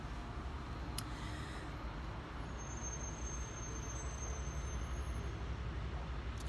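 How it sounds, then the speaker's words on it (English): Road traffic in California, including many trucks, forms a steady, dense rumble of passing vehicles, continuous and moderately distant, with a brief higher hiss like an air brake. "You hear that California traffic?"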